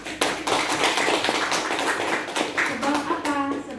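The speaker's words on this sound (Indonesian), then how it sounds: "Ini boleh kalian kasih tepuk tangan buat Nita." Classmates clap their hands for a fellow student in a classroom, a brisk cluster of claps under a nearby voice, with some murmured talk toward the end.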